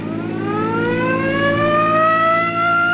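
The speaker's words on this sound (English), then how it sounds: "Come on, hit your siren." A police car siren wails loud and close, a steady rising electronic tone that holds for the full stretch with no voices over it.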